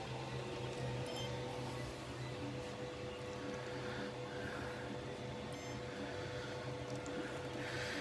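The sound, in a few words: Tronxy X5SA 3D printer homing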